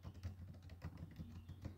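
Quiet, steady typing on a computer keyboard while composing an Outlook email, with soft rapid key clicks in an uneven rhythm and no talking.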